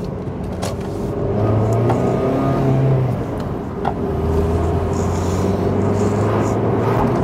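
An MG ZR with a lightweight K-series engine hums steadily while driving, with shifting tones as it revs and changes gear, loud and close from inside.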